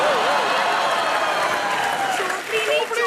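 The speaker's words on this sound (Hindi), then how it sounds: "जोरदार तालियां परिणीति चोपड़ी के लिए।" A studio audience on a comedy show applauds for actress Parineeti Chopra, a loud, continuous roar of clapping with voices and laughter rising over it, swelling again toward the end.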